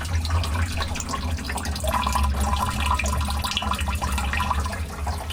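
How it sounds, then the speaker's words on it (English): Water streams steadily from plumbing supply lines, a continuous close rushing and splashing that holds at an even level throughout with no voices. "there is a nice stream of water"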